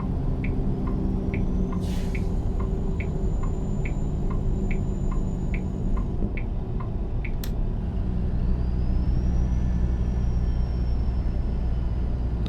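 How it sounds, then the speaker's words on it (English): Steady, evenly spaced ticking of a truck's turn-signal blinker in American Truck Simulator, about a dozen crisp clicks over a constant low engine rumble, with one brief sharp click near the end and no talking. "Those blinkers are pretty loud."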